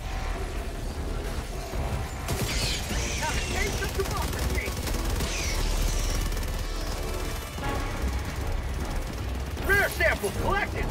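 Sentry turret machine gun in Helldivers 2 firing rapid bursts amid a dense battle mix of explosions and gunfire, with voices in the game calling out over the din.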